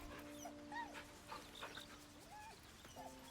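A dog whimpers and yips in the fantasy role-playing game Baldur's Gate 3, with short high whines and soft panting over quiet game ambience and light music.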